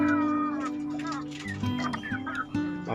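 Chickens cluck in a closed coop ahead of their evening feed, a busy overlapping flock chatter that carries on steadily throughout, with a voice speaking faintly beneath it.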